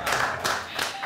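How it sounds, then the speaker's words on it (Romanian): Brief burst of applause at a television show, quick clapping in a few surges over about a second, with talk mixed in. "Aplauze!"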